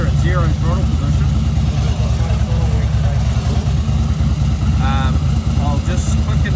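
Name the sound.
Harley-Davidson Dyna motorcycle engine idling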